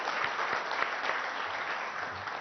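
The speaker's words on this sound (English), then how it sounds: "I think he deserves a big round of applause." Audience applause in a meeting room at a CII business gathering, a dense, steady burst of clapping from a seated crowd that holds at a constant level.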